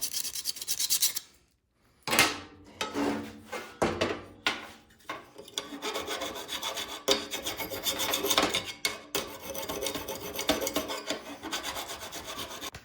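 Thin metal on a Troy-Bilt TB230 lawn mower is cleaned up before welding with close, rasping scrapes, first in separate strokes and then in a denser run of filing.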